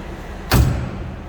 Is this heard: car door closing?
yes